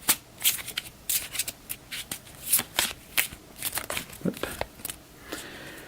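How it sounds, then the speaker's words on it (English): Up close, the mountain card deck from the board game Gloom of Kilforth is quickly shuffled. Several crisp, quiet riffling bursts of cards flutter and snap together in an uneven rhythm. "We'll give this a quick shuffle."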